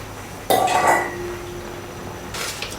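Mung bean vermicelli drops into a braising pot of Buddha's Delight with a clanking rattle of pot and utensil, a second softer clink following a moment later; nobody speaks.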